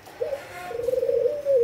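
A Thai pigeon with red-spotted plumage and a black neck ring gives one drawn-out, steady coo that rises slightly and holds for over a second, close and clear against a quiet room.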